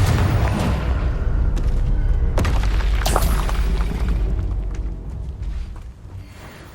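A Confringo spell explodes in the Hogwarts Legacy video game as a loud, deep boom followed by rumbling blasts and crackling bursts that slowly fade out.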